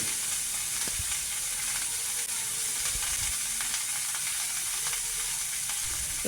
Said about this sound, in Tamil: அதில் வெங்காயத்தை போட்டு வதக்கிக்கலாம்